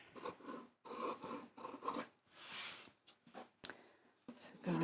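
Scissors cutting through leftover fabric, with repeated close, crisp snips and rasping slides of the blades in an irregular rhythm. The cutting is quiet.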